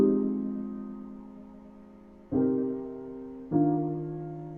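Sustained piano chords ring out and slowly decay, with the harmony shifting twice to new chords; calm and solo, no talking.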